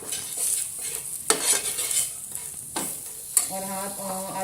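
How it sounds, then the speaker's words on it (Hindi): Ground coriander, red chili, salt and ground cumin roast in a hot pan for an aloo samosa filling, giving a steady close sizzle broken by a few sharp stirring scrapes, with no talking. "सबसे पहले पिसा हुआ धनिया, थोड़ी सी लाल मिर्च, नमक, ज़ीरा पिसा हुआ, इनको डाल के थोड़ा सा भूनेंगे"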